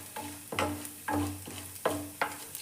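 Grated coconut is stirred as it fries in a pan. A spatula scrapes in a steady rhythm of about five strokes, each over a soft, continuous sizzle, close and clear with no speech.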